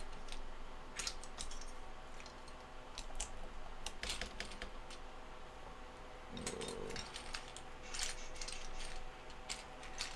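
A hand digs through a pile of mixed plastic keyboard keycaps, producing scattered clicky rattles and clacks in irregular bursts, fairly close and moderately quiet with no talking.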